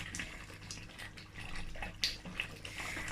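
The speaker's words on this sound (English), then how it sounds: "So I'm just going to mix it. It's splashing." Mackerel fish stew boiling in a pot is stirred, throwing off wet bubbling splashes and drips over a steady low simmer, fairly close and at moderate level with no talk.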